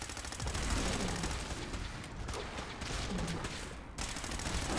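Sustained rapid gunfire in Fallout 4 forms a dense, continuous roar of overlapping shots and blasts that stays loud and steady throughout.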